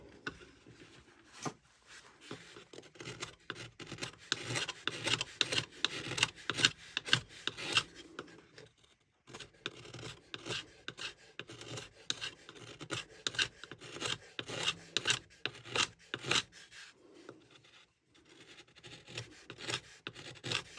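Knife chamfering the inner edges of a wooden 7-string lyre: a steady run of close, rhythmic rasping cuts scraping along the wood, with a short pause partway through before the strokes resume.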